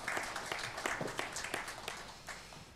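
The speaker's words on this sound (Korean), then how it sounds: "우리 박수로 하나님께 영광 돌리겠습니다." A church congregation claps together during a Korean New Year's Eve worship service, a moderately distant, fairly soft patter of many hands with a few sharper individual claps standing out, fading slightly toward the end.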